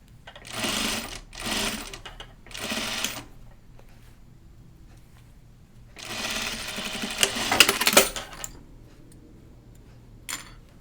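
A sewing machine stitches bias-cut fabric in three short bursts, then a longer run with faint ticking, with quiet pauses in between.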